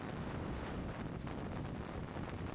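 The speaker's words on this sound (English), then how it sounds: "I expected some wind noise" Steady wind roar at highway speed inside or around a Ford F-150 fitted with a roof-mounted Starlink Mini dish. It is a constant, dense rush with no talk.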